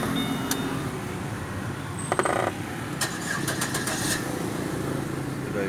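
A 2008 Chevrolet Captiva 2.4L is started: a brief cranking burst rises into a running engine that settles into a steady idle, heard close.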